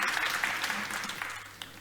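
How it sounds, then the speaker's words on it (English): Audience at a climate change summit applauds project presenters, a brief, moderately loud burst of many hands clapping in a hall. "So let's give them a big round of applause."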